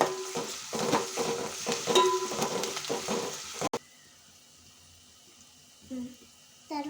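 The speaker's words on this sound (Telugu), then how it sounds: "ఆయిల్ మంచిగా ఫ్రై చేసుకోవాలి. నెక్స్ట్ కొద్దిగా అల్లం వెల్లుల్లి" Ginger and garlic fry in hot oil over onion for a ladies' finger curry, giving a loud, busy sizzle with stirring for about four seconds before it cuts off to near silence and a faint clink.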